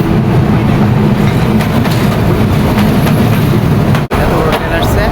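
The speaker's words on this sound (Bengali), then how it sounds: "এত বড় ট্রেন আসছে" A large train pulls into Chashara railway station in Narayanganj, its loud, steady rumble and clatter filling the platform continuously and close by, with no break.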